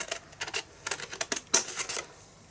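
Scissors snip paper up to a score line in a quick run of short, crisp cuts close by, in uneven bursts with brief pauses.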